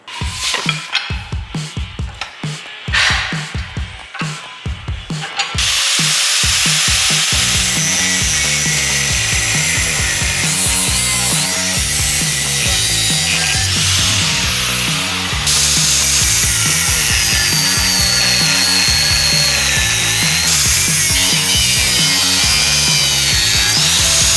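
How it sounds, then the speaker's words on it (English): A cutoff wheel bites into metal brackets on a Honda CB650 bobber frame, first in short rhythmic bursts, then a long continuous loud grinding shriek, close and alone. "So that first wheel was obviously the cutoff wheel."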